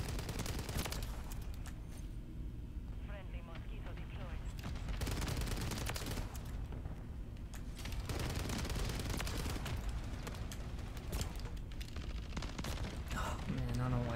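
Sustained video game gunfire, rapid automatic bursts and crackling shots, runs throughout at steady loudness, with a player talking intermittently over the action.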